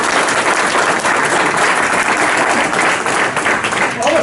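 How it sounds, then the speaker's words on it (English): A room full of people claps for two participants at a town-hall-style gathering, loud dense applause sustained without pause before easing slightly near the end. "All right, let's give these two a round of applause."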